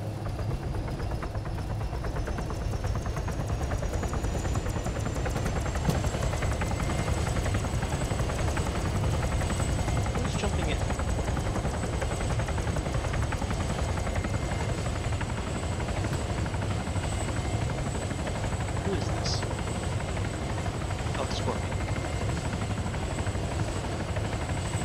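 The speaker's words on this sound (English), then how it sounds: "I'm gonna fly the helicopter." A video game helicopter drones steadily for a long stretch, a constant thumping rotor and engine hum with a high whine rising early on.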